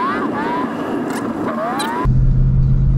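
Ford Mustang GT engine pulling hard under acceleration on the road, a rising whine and rumble that cuts to a steady low drone of cabin road noise, close and loud.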